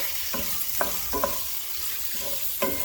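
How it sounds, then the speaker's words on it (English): Food frying in a pan over an open flame and being stirred constantly, a steady close sizzle with several distinct utensil scrapes and knocks against the pan, no speech. "we're gonna keep stirring"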